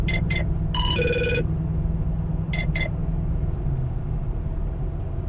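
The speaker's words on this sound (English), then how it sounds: "Oh, phone call." A phone rings with an incoming call, two short double-trill bursts and a melodic tone, then another double burst, loud over a steady low rumble with no talking.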